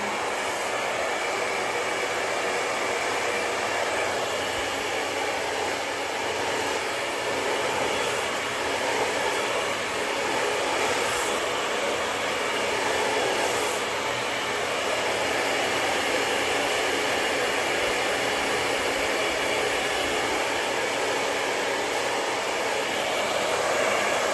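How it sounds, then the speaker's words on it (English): A hair dryer blows steadily on damp hair during an at-home keratin smoothing treatment, a continuous loud airy whoosh with a high whine holding level and close for the whole stretch, with no talking. "You want to make sure you really dry the hair really well before you go in with that flat iron."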